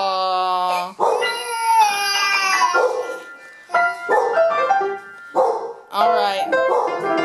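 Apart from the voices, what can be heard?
dog barking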